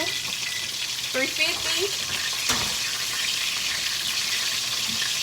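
A few sausages sizzle and fry steadily in a pan, a continuous close hiss throughout, with a brief spoken word and light clatter partway through.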